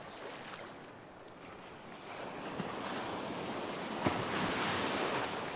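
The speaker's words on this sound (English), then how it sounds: "I keep getting wet from these waves." Ocean waves wash and break steadily on a beach where someone is surf fishing, a continuous broadband roar with gusty wind noise against the microphone, swelling louder toward the end with a sharp splash near the close.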